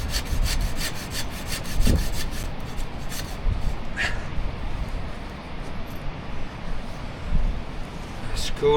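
A hand saw rasps back and forth through wood in steady strokes, close and continuous, with a person talking over it at times.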